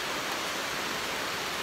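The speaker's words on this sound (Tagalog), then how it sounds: "Malakas ng ulan" Heavy rain pouring down steadily, a dense broadband hiss that stays constant and close with no breaks and no voices.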